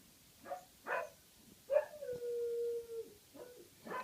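A pet dog moans and howls indoors with short whining yips, then a long, steady, drawn-out howl and a few more whimpers, moderately loud and close, with no talking over it.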